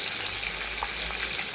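Fish fries in a pan in a home kitchen, a constant, fairly quiet sizzle and crackle with faint spattering throughout, no voices heard.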